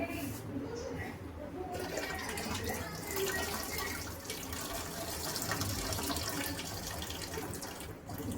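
Water poured out of a container at home, a faint steady splashing and trickling stream running for several seconds, with soft background sounds and a voice speaking.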